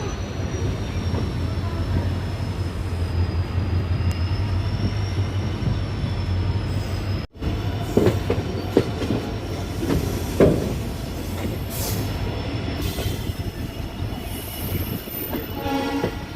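Interior of a moving Haridwar–Bhavnagar Terminus express train in India: a steady, loud rumble of wheels on rails with rattling carriage noise, occasional clanks and squeals, and a thin high whine running through most of it.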